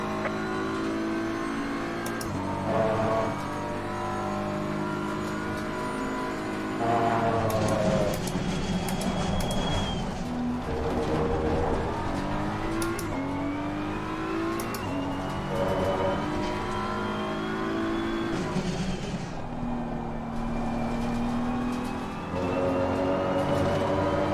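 Race car engine in a racing video game at Kyalami, a continuous loud whine rising through gears with repeated shift drops and surges, steady throughout without talk.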